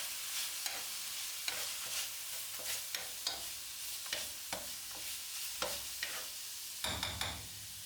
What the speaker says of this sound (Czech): je správný čas do jídla přidat papriku, kterou lehce zamíchám